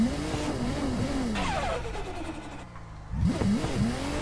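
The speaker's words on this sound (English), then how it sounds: "All the turbo flutters." A drifting car on the Mt. Akina course in a racing video game, engine revs rising and falling with a brief lift-off fluttering chatter, then a sharp re-rev, loud and close.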